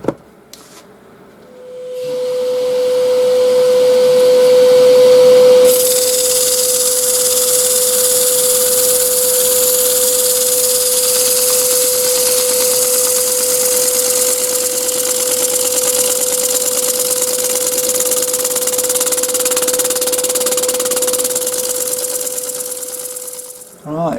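A cherry wood bowl being power sanded, with a loud continuous whirring hum and steady hiss that runs unbroken for about twenty seconds before cutting off.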